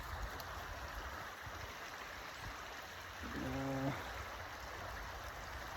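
Creek water flowing at a woodland creek crossing, a faint, steady wash of running water heard from nearby, with a brief tonal, voice-like sound rising over it partway through.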